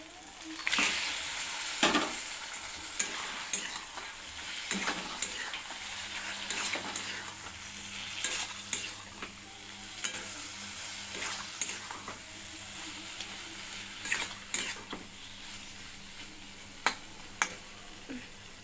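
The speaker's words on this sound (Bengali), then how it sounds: "মাছগুলোকে দিয়ে দিলাম, আর নাড়ানাড়ি করব না।" Lote fish added to spiced oil in a pan, frying with a continuous close sizzle broken by scattered sharp pops and clinks over a low background hum.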